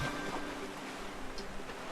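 Waterfall in the video game Owlboy, a steady, continuous rush of falling water that fills the whole stretch at an even, fairly loud level, with no voices over it.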